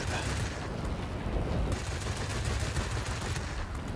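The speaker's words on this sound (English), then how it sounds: "Just trying to keep this burst short so we don't get our cannons overheated." A short cannon burst from an aircraft in the World of Warplanes combat game, with dense, rapid gunfire rattling loudly and continuously over engine drone for several seconds.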